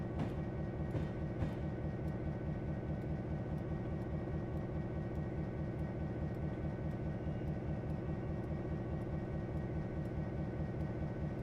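A freight train hauling sky boxes to the Boeing plant at Mukilteo rolls past in a continuous, low, rhythmic rumble with repeating wheel clatter, steady and fairly distant.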